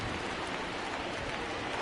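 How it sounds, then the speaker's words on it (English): Steady, dense rain pours down on a baseball field in an MLB The Show game, a continuous hiss with no break, loud and close. "I don't know how much more rain this field can take."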